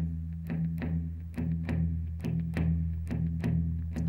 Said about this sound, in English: And that's what we all recognize as a blues shuffle.